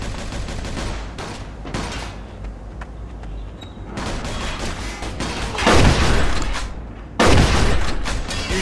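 A loud gunfight in the video game Mafia II, with repeated bursts of gunshots and booming blasts, close and intense, separated by brief lulls of rumble.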